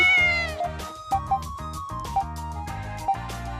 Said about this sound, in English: I'm always nervous around cats. There's something about this one that just draws me in.